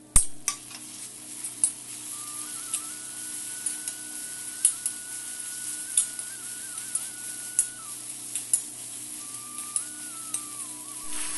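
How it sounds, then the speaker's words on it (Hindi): Onions fry quietly in a pan, browning lightly for a horse gram dal dish, while a utensil scrapes and taps at a regular rhythm, with a faint steady tone in the background. "प्याज को हमने ब्राउन करना पड़ेगा हल्का ब्राउन करने तक हमने भूनना पड़ेगा"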